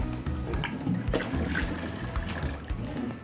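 Hot boiling water is poured into sieved millet dough for Hausa koko, giving a continuous close splashing, gurgling stream with small irregular bursts and no speech.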